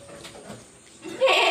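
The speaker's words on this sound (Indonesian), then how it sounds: "kambing" Goats bleat while being fed fermented corncob mash in the morning, a few calls early on, then a louder, sustained bleat close by toward the end.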